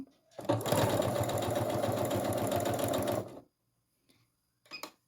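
A domestic sewing machine backstitching at the end of a seam on a soft fabric strip, one loud, steady burst of rapid needle chatter lasting about three seconds, then quiet with a small click afterward.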